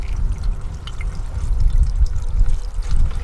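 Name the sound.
low water flow trickling through Sluice Goose gold sluice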